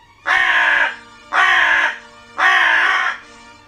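A crow gives three loud, harsh caws close to the microphone, each about half a second long and evenly spaced, with a faint fourth call trailing off at the end.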